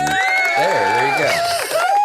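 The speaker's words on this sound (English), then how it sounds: "Everybody needs canned applause." Canned studio-audience cheering and applause swell in a dense, continuous roar of whoops and shouts, loud and sustained throughout.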